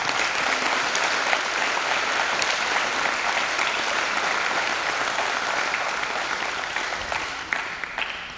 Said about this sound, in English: I want you to give those two groups a big round of applause.